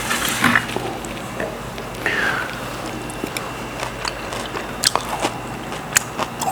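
Pickled deodeok being bitten and chewed up close: a crunchy bite, then a run of small, sharp, wet crunches and clicks at an irregular chewing rhythm over low background noise.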